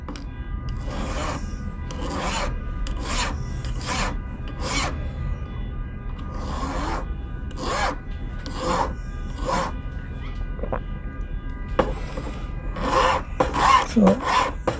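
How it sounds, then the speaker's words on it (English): A cast silver pendant being hand-filed: a series of short, rasping strokes in irregular bursts, close and fairly clear, with no voices. "So I'm going to filing everything down to perfection."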